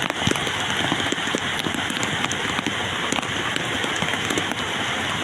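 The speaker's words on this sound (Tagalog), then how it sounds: "hindi titigil yung ulan kahit 3 days lang" Steady rain pours down over typhoon-battered rice fields, a dense, continuous hiss with scattered sharper drops pattering close by.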